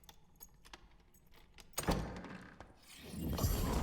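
In the video game Dark and Darker, a dungeon door swings open with a sharp wooden thunk and a heavy creaking sweep, preceded by light rattling taps and followed by a second louder scraping surge.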